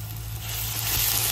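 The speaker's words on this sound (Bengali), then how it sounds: "সবকিছু খুব ভালোভাবে কষিয়ে নিই" Spices sizzle in a pan with chanda fish, turmeric, chili, coriander powder and cumin paste, a close, steady frying hiss that grows slightly louder.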